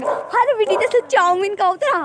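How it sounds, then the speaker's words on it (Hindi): A dog in a residential colony barks and yelps several times in short bursts, close and loud, mixed in with someone talking over it. "यहाँ कुत्ता भी भौंक रहा कॉलोनी में"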